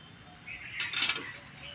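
Fried pea-lentil fritters tipped into a simmering cauliflower and potato curry in a metal pot, a brief clatter and clink of utensil against cookware peaking for about half a second, faint background otherwise.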